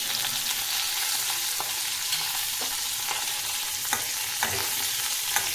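Curry leaves and dried chilies frying in a pan with chana dal, a continuous bright sizzle with occasional soft stirring clicks, close and steady with no talk.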